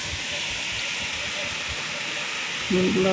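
A steady, loud sizzle and hiss fills the clip as washed polao rice fries in hot oil, and a voice briefly starts speaking near the end.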